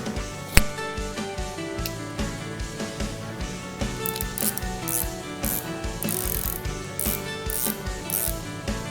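A Daiwa RX LT 2020 spinning reel gives a steady, dense run of close ratcheting clicks and gear whirring as its spool is fitted back on and turned, loud and continuous with a sharp knock near the start.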